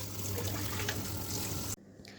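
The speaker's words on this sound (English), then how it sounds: "When the pasta went soft like this, we washed it with some warm water" Warm tap water runs steadily over cooked spaghetti being rinsed for an Iranian-style dish, a continuous rushing splash that cuts off abruptly near the end.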